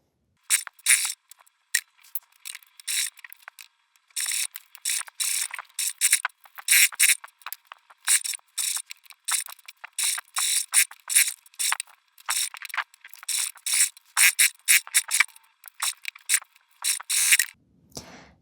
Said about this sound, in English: We're going to sew all the way around the gusset.